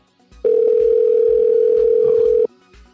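A steady telephone dial tone sounds loud and unbroken for about two seconds, then cuts off abruptly, with faint background noise before and after.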